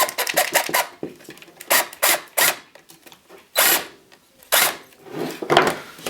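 Screwdriver driving screws to refasten a PSU fan to a computer case, heard as a series of short close scraping, rasping turns in irregular bursts with brief pauses between them.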